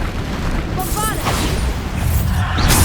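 Bombarda blasting spell in Hogwarts Legacy going off amid busy combat, with a deep booming burst, swooshing magical tones and crackling debris, loud and close throughout.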